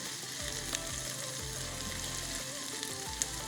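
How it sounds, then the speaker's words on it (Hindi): Roughly chopped chunks of ginger fry with softened onions in a pan, giving a steady close sizzle broken by spatula stirring strokes, with no one talking. "एक मिनट तक अदरक को फ्राई करने के बाद"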